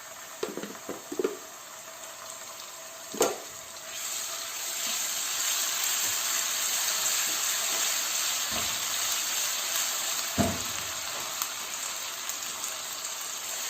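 Onions and ginger-garlic paste sauté in a pan with a soft, steady sizzling hiss, with a few clinks and knocks from cooking utensils, quiet and close.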